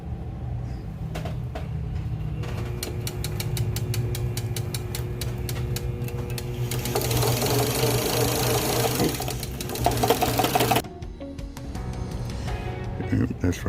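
A Penn 6/0 fishing reel spooling 100 lb line, giving a steady, loud mechanical whirring with rhythmic clicking pulses that swells in the middle before a brief drop, with a voice talking over it.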